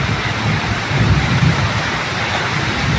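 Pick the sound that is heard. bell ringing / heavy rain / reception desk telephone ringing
heavy rain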